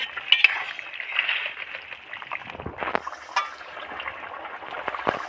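Fish going into a pan of Bengali Amudi fish curry brings soft wet stirring and splashing, with light clinks of a utensil against the pan and a quiet sizzle, close and low in volume.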